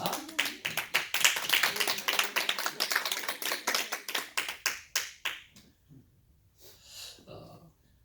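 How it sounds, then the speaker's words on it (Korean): A church congregation breaks into clapping during a worship service. The rhythmic claps are moderately close and last about five seconds before thinning out, followed by quiet breathing and faint sounds. "우리 한번 박수하겠습니다."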